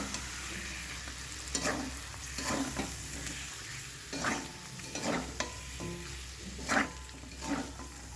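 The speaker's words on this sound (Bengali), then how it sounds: "ভালো করে কিন্তু কষাতে হবে অনেকক্ষণ ধরে কুড়ি মিনিট ধরে আমি মাংসটাকে কষাবো" Chicken pieces being stir-fried in a pan: a soft, continuous sizzle with a spatula scraping and knocking at irregular intervals, fairly quiet and close.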